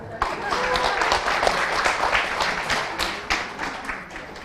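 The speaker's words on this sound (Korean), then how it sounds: "박수 한번 주세요" Audience applauding at a Korean community talk and prize giveaway, a steady burst of many hands clapping close and loud for several seconds, with voices mixed in underneath.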